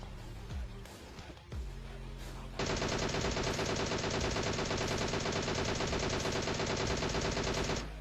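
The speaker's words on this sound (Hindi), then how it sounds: "सामने फायर हो रहा था" Rapid automatic gunfire in a battle royale video game, starting with a few scattered shots and then breaking into a loud, sustained barrage of dense rattling bursts that runs for several seconds.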